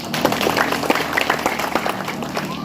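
An audience at a community political gathering applauding, continuous crowd clapping mixed with murmuring voices throughout.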